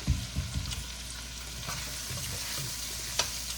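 Wilting vegetables sizzle and fry steadily in a pan while being stirred, with a few scraping clatters of the utensil near the start and one more a little later, with no voices.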